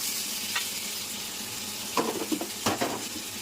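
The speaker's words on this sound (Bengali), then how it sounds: "এটা পেঁয়াজটা একটু ভেজে নিলাম, তারপর অল্প একটু পরিমাণ আদা রসুন" Onion frying in a pan with ginger and garlic added, a steady close hiss of sizzling oil broken by a few brief stirring scrapes near the end.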